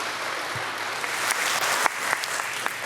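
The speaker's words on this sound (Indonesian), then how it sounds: "Hadirin sekali lagi kita berikan tepuk tangan yang paling meriah" Applause from the audience at the closing ceremony of trading on the Indonesia Stock Exchange. Many hands clap in a steady, lively wash that swells slightly midway, with a few sharper claps standing out near the front.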